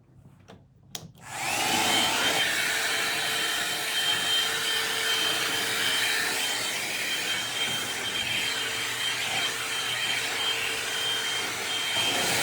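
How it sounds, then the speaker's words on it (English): A hair blow dryer switches on after a couple of faint clicks and then roars steadily and loudly at close range, a continuous whooshing motor hum that lasts more than ten seconds with no talking. "I really wanted to use my other blow dryer, but I'll borrow Serenity's"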